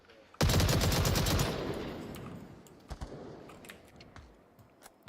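Players in the VR shooter Onward fire a sudden burst of rapid automatic gunfire that blasts loud for about a second, then trails off into scattered single shots and clicks farther away.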